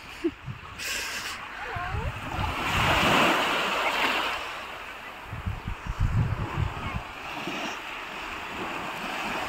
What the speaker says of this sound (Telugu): ఇదిగో బీచ్, ఇదొక బీచ్ పాయింట్.